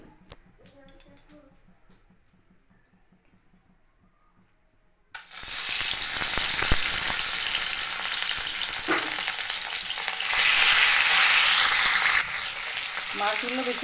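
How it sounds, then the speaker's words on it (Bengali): Rohu fish pieces drop into hot mustard oil, a loud close hissing sizzle bursting in after a stretch of talk and quiet kitchen sounds, then roaring steadily and swelling briefly. "তেলটা ভালো মতো গরম হয়ে গেলে এর মধ্যে আমি রুই মাছগুলো দিয়ে দেবো।"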